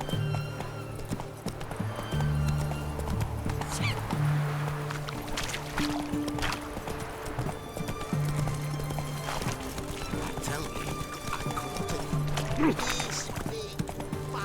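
A horse gallops with rapid, rhythmic clip-clop hoofbeats in the Witcher 3 video game, steady throughout beneath game music and ambient sounds.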